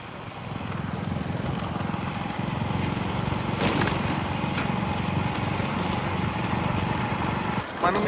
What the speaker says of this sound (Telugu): చూడండి మిషన్ స్టార్ట్ అయిపోయింది వరి కోత